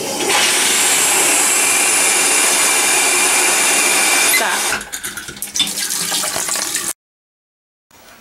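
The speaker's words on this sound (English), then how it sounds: "we went ahead and ran the shower for 5 seconds" A shower head running at full, unrestricted flow sends out a loud, steady rush of spraying water for several seconds, close up. The flow sputters and then cuts off abruptly into silence.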